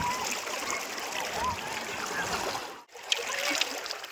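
The Vishweshwar River rushes with a constant broad wash of flowing water as people bathe, with faint splashes and a brief dip near the end.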